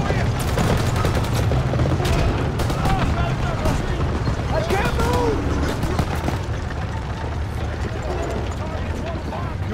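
Dense, continuous battlefield din from the Call of Duty WW2 Battle of the Bulge mission: mortar blasts and rolling gunfire crackle loudly throughout, with shouted voices breaking through the chaos.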